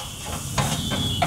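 Pav bhaji ingredients, onions and capsicum with pav bhaji masala and chutney, frying in ghee on a street-stall griddle, giving a steady hiss and sizzle with a few sharp scraping or stirring taps.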